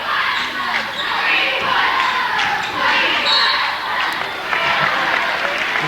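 A home crowd on its feet in a high school gymnasium during a 1997 boys basketball game in Wallingford, Connecticut, cheering in a loud continuous roar under a commentator's voice.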